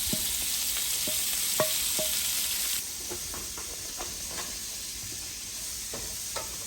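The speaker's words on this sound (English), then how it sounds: "Then we're going to go in with the cabbage that we have, which is quite a bit. We're going to cook this down a little bit." Cabbage cooks down with onion and meat in a pan, a loud steady sizzle and hiss that drops partway through, with occasional spatula taps and scrapes close up.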